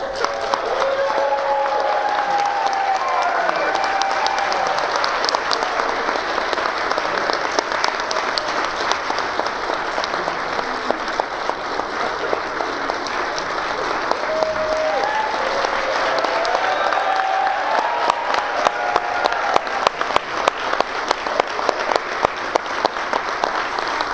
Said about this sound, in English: Continue to clap and help us welcome the newlyweds, Mr. and Mrs. Santos.